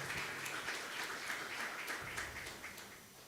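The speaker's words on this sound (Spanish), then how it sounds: "Un aplauso para el hombre," A church congregation applauds in a steady wash of clapping from many hands, fairly faint and distant, with no talking over it.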